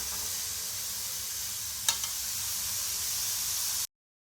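Onions frying over a low flame in a pan give a steady, soft sizzle close by, with a couple of faint clicks partway through before the sound cuts off abruptly.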